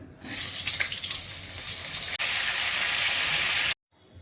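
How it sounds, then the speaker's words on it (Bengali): Cauliflower florets frying in hot mustard oil in a home kitchen make a loud, close, hissing sizzle that holds steady until it cuts off abruptly. "ফুলকপিগুলো ভেজে নিচ্ছি"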